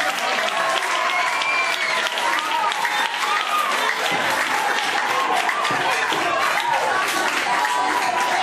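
Loud, dense clapping from a school audience, continuous and even throughout, with children's voices and chatter mixed into the applause.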